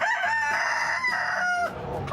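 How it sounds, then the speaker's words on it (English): Roosters crow loudly and close by in a single long, drawn-out cock-a-doodle-doo, with fowl clucking around it and no talking. "I even made a quick stop to say hi to the roosters."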